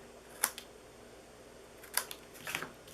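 Scissors trim paper pieces for a 4th of July candy box craft, giving a few quiet, crisp snips spaced apart, with a close double cut near the end and no talking.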